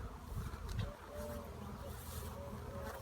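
Honey bees work at a hive in early spring, a soft continuous buzzing hum heard close, with a brief louder knock near the start.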